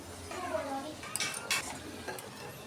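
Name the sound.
potatoes frying and being stirred in pan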